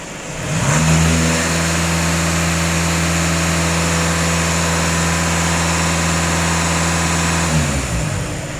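A Skoda Superb with an EA288 diesel engine revved and held at raised rpm, a loud, steady drone that climbs quickly, sustains evenly for several seconds, then drops back to idle.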